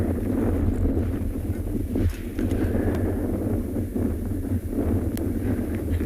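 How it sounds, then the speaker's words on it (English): Wind buffeting the microphone during an evening safari drive at Tswalu in the Kalahari, a constant loud low rumble with gusty swells and no clear talk. "I'm sure you can hear the wind."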